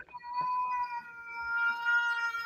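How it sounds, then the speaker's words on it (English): A cat meows in a drawn-out, wavering cry lasting a couple of seconds, close and fairly clear against a quiet background. "Feed your cat."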